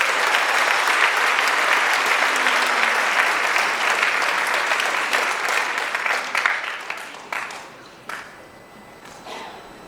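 An audience applauds a middle school jazz band, with dense clapping that holds steady and then thins out to a few scattered claps at the end.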